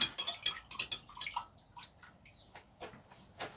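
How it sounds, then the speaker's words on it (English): Cal-Mag plant feed being mixed into water in a container: a brief run of close, quick clinking and splashing strokes, then fainter scattered drips and taps, with no talking. "And then we need to give it a good mix."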